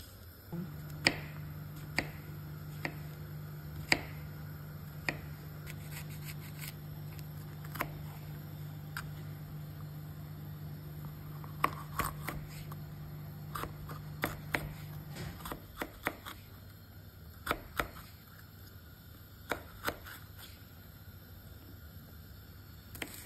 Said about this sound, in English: And then we're just going to cut it into thin slices.